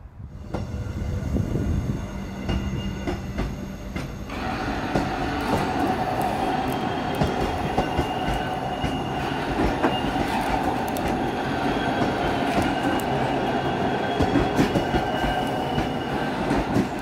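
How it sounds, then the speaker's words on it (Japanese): A train car undergoes a wheel gauge change, lifted so its wheels leave the rail, with steady loud rolling rumble, metallic clatter and squeal running continuously throughout. "まずは、列車が、車輪の幅を変える動作を、ご覧いただこう。"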